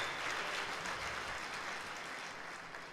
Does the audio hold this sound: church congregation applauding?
yes